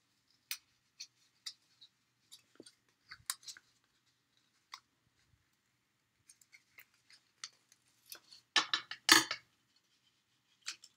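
Scissors snipping through excess cardstock on a gatefold card, a series of sharp, quiet cuts spaced apart, with a denser flurry of snips near the end, close and otherwise silent.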